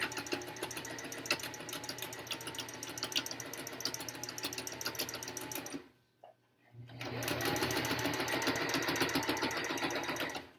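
A domestic sewing machine stitches a fabric cover for an N95 mask, running in a steady close whir, stopping briefly for about a second partway through, then starting up again at a slightly louder, fuller hum.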